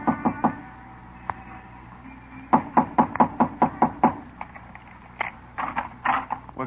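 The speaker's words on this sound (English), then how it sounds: "Knock on the door." Knocking on a locked door in an old radio drama, heard as a few knocks, a pause, then a run of sharp, loud, evenly spaced raps followed by a few softer ones.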